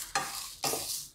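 Fennel seeds are stirred into hot roasted dabeli spice mix, giving two close, dry scraping sweeps of a spoon through the pan with a faint sizzle.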